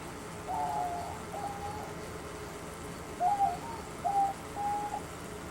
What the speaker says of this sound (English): you can also hear some diamond doves in the distance